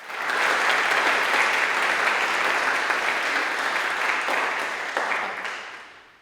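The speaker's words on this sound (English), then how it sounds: "let's give her a round of applause." A congregation at a ceasefire teach-in with Oakland Mayor Barbara Lee gives a sustained round of applause, loud and dense from the start, holding steady for several seconds before tapering away at the end.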